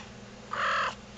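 A pet cat gives a single short, close chirp in a quiet room, a brief trilling call with no other sounds around it.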